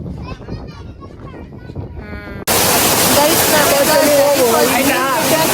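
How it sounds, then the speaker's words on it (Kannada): Jeri Falls waterfall in the hills pours as a loud, steady broadband roar that starts abruptly partway through and drowns out the quieter voices heard before it. "ನಾವೀಗ ಜೆರಿ ಫಾಲ್ಸ್ ಬಂದಿದ್ದೀವಿ"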